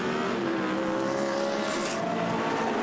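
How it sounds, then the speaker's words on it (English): GT race cars in Blancpain Endurance Series free practice at Monza, roaring past the pit straight out of the Parabolica, a loud continuous engine howl with rising pitch as the cars stream by. "the cars come through the parabolica past the pits"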